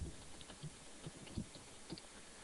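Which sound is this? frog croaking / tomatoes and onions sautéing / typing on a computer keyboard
typing on a computer keyboard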